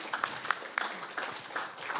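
A small audience at a community energy talk claps for a speaker, giving sparse, scattered claps that sound faint and thin.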